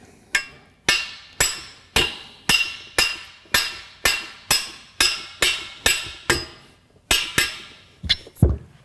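Metal taps bring the spreader bar of a Hills Double Folding Clothesline into line, about fifteen crisp, ringing strikes at a steady, unhurried pace with a quicker pair at the end, close and alone.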